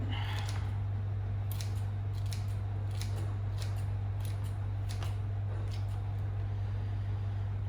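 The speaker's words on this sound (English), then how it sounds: "Trusty scissors." Scissors snip repeatedly in quick, crisp cuts, close by, over a steady low hum.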